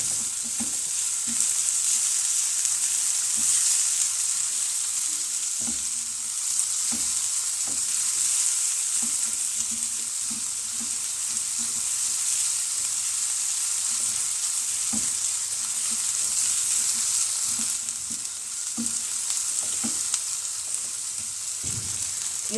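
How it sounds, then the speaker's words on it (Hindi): Onions for a chicken samosa filling sauté in a pan with a steady bright sizzle, broken by repeated spatula taps and scrapes as they are stirred over about twenty seconds, with no speech. "प्याज को हम थोड़ा सा सौते करेंगे। बहुत ज़्यादा प्याज को नहीं पकाना"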